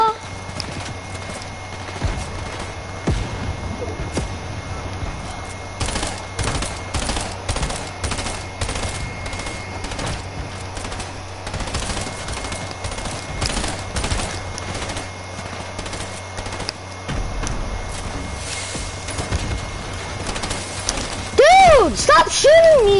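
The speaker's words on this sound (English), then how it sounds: "Stop shooting me!" Bursts of rapid gunfire from a shooter video game rattle in quick repeated volleys with short pauses between them, mixed with a voice talking over the action.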